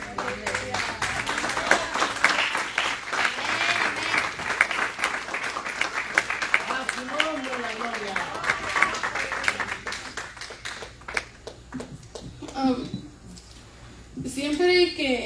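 Church congregation applauding, a dense broadband clapping wash for about eleven seconds, with voices over it, then fading to speech near the end.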